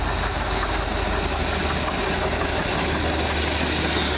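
A car carrier train passes close by at Cheddington, a loud continuous rumble and roar of rolling wagons filling the whole moment, with no speech.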